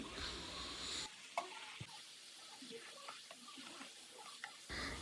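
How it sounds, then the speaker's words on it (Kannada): A spoon stirs sweet pumpkin palya in a pan after sambar powder and coriander go in: faint scraping and soft clinks with a light sizzle, quiet and close, with no talking. "ಇವಾಗ 1 ಸ್ಪೂನ್ ಸಾಂಬಾರು ಪುಡಿ ಮತ್ತು ಸ್ವಲ್ಪ ಕೊತ್ತಂಬರಿ ಹಾಕ್ಕೊಂಡು ಮಿಕ್ಸ್ ಮಾಡ್ಕೊಳ್ಳೋಣ"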